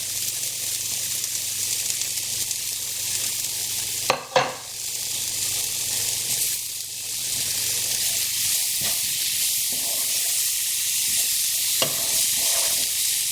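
Chopped tomato chunks and green chilies sizzle steadily in a hot pan for a Bangladeshi sardine bhorta, a broad continuous hiss with a couple of brief stirring clatters, close and without talk.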